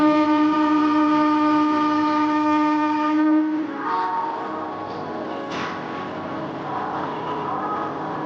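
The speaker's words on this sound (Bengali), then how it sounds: "টাইম হয়ে গেল ট্রেন আসার" A train pulling into a station platform on the way to Puri sounds a long steady horn, then gives way to a rumbling, rattling roll of carriages with a brief squeal.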